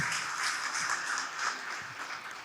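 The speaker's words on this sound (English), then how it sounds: "Can we have a clap on the stage for attendance on the stage, please?" Dense, steady applause from a conference audience welcoming people on stage at an inaugural session, a continuous wash of many hands clapping without pause.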